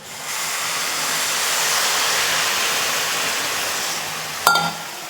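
Jaggery water pours steadily with a soft, hissing splash for several seconds, followed by a brief clink of a utensil or vessel.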